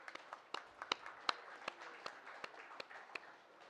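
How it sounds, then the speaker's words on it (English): Scattered, faint hand clapping from a small audience at a Charolais cattle sale at the Iowa Beef Expo, individual claps standing out irregularly over a quiet room. "give them guys a big round of applause"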